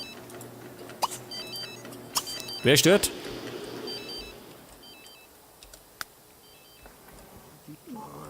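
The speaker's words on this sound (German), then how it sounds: "Das ist dein Telefon." A phone rings in The Sims 3: a bright electronic ringtone with chirpy, stepped beeps, over the game's background ambience and occasional clicks. A voice speaks briefly in German over the sound.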